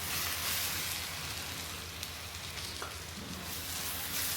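A loud, dense, continuous sizzle from thick coconut milk hitting hot masala for fish pollichathu, a steady hiss like heavy rain that holds throughout with only faint clicks over it.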